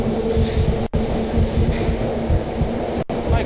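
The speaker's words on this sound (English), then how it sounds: "God, this metro is so loud." Subway train rumbling loudly through a tunnel in the shooter game Jonathan Kane: The Protector, a steady heavy low roar with a sustained hum and two brief dropouts, no voices.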